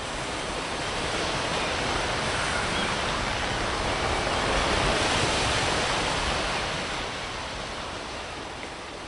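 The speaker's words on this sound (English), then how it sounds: "But you know what is today? The waves." Ocean waves in a sea setting roll in as a continuous broadband wash of surf, loud and steady, swelling gently toward the middle before easing off, with no voices.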